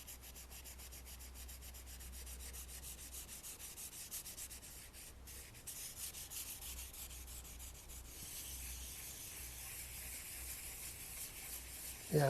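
A hand rubs color firmly into a surface, a steady, quiet, close-up scrubbing sound that continues without pause and with no voices.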